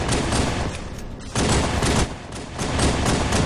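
Gunfire from a Halo 3 custom game comes in dense, loud bursts of rapid automatic shooting, with a short lull just after the first second and a brief dip before the firing picks back up.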